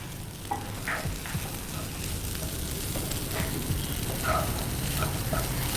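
Curry stirred and mixed in a sizzling pan, with a continuous frying hiss and repeated scraping spoon strokes at an uneven rhythm, close by.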